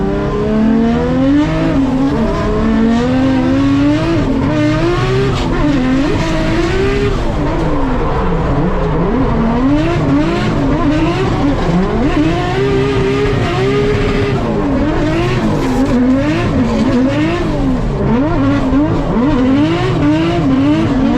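A Nissan R33 drift car screams through a drift battle, its engine revving hard and warbling up and down while the tires squeal, loud and continuous for over twenty seconds.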